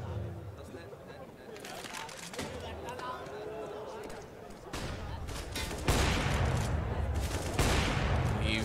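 Gunfire in the video game CS:GO on the map Cache, several sharp shots and short bursts that grow denser and louder toward the end, heard under a commentator talking.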